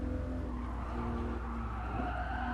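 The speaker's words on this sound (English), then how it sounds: "I also like the sound of this car." Car engine in Gran Turismo Sport during an FR Challenge race, a steady grunty drone with continuous tire skidding and squeal layered on top, loud and sustained throughout.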